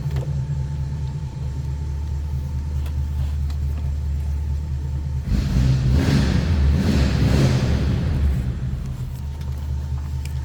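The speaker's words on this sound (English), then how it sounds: "Little rumble coming out of that flatty. Now, I did mention it was true dual exhaust and glass pack" A 1950 Ford Custom sedan with a flathead V8 and true dual exhaust with glass packs idles with a low, steady rumble, then swells briefly into a deeper revving burst before dropping back to idle, heard close by.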